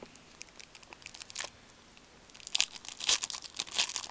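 A hockey trading card pack tearing open at a box break, starting with faint crinkles and building into louder bursts of ripping and crinkling foil wrapper near the end, with no talking.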